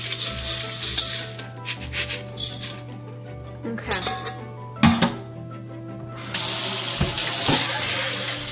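Tap water runs into a sink while a pound of dry beans is rinsed in a strainer, with rubbing and clattering under the stream, stopping and then rushing on loudly again.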